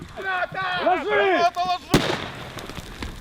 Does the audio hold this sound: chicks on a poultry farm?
no